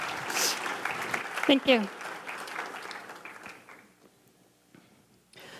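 Audience applause welcomes a speaker at the CascadiaFest 2015 web conference, a loud burst of clapping that fades over a few seconds before a voice takes over.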